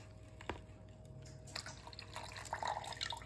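Leftover borax solution being strained into a pot, quiet trickling and dripping liquid with a few splashes and louder pouring toward the end, close and soft, no voices.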